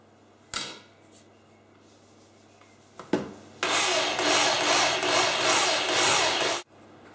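A few sharp knocks, then a steady rasping hand saw stroke cutting through a wooden squared timber for a few seconds before stopping abruptly.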